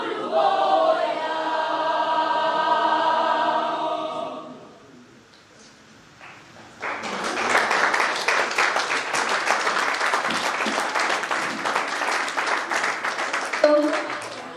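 A school audience bursts into sustained applause after a learners' choir sings, heard first as the choir's held harmonies, then a brief lull, then loud, dense clapping that fills the room.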